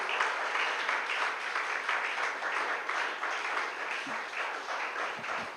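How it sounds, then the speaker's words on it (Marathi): A church congregation applauds in a steady, sustained wash of many hands clapping at once, even in loudness throughout and fairly distant. "टाळी वाजून देवाला धन्यवाद"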